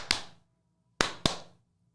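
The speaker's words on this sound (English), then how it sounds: "Clappy clap. Clappy clap. Clappy clap." Three crisp, close hand claps ring out in a quiet room, one on its own and then two quick ones together, each fading fast into silence.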